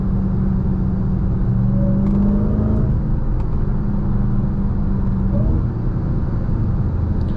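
Dodge Charger Hellcat Widebody Jailbreak engine in track mode, a steady loud rumble building under acceleration with rising pitch through shifts, heard close from inside the car.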